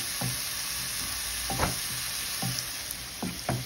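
Oil crackles in a pan as a tempering for dal, a quiet, even frying hiss with a handful of spaced utensil knocks as it is stirred.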